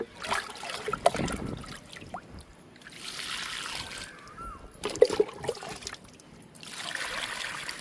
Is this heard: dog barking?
no